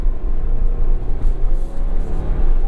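A 2023 Ford Bronco Heritage with a seven-speed manual drives onto a rough oval track, its engine a loud, steady close rumble and whir with tire and road noise surging and easing as it goes.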